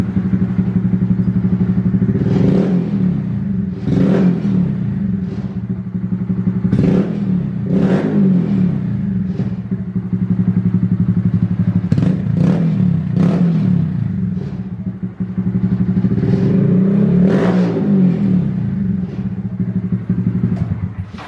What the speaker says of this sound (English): I always like to warm up my engines before I drain the oil